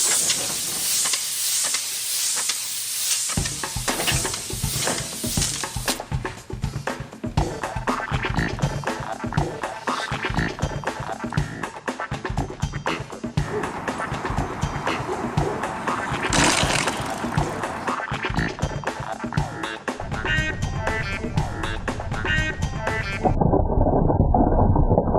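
Punctured bicycle tire filled with Kenda-compatible sealant, spinning on its wheel after an 8mm scribe stabbed through the sidewall, producing a continuous loud rushing hiss and whir that shifts in tone throughout.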